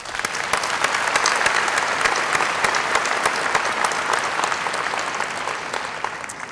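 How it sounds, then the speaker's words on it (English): A commencement audience applauds for a graduation speaker's family and mentors, dense sustained clapping from a large crowd filling the hall at a steady loud level throughout. "Let's give them a round of applause."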